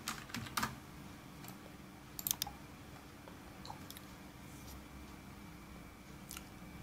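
Keys clatter on a computer keyboard in scattered quick bursts of clicks, close and fairly quiet over a steady background hiss.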